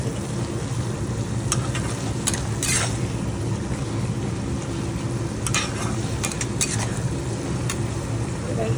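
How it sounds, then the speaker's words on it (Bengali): Food seasoned with turmeric and chili powder is stirred in a pan, a continuous close scraping and sizzling with intermittent sharper utensil clinks against the metal. "চলুন নেড়ে নিই"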